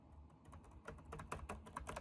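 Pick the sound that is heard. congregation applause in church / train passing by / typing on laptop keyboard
typing on laptop keyboard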